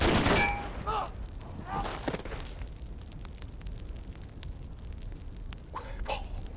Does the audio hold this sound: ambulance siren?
no